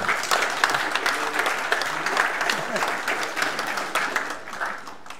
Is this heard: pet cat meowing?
no